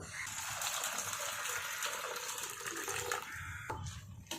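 Water is poured through a sieve over wheat being washed for kurdai, a steady rushing splash that cuts off abruptly, followed by a few short trickles and spatters.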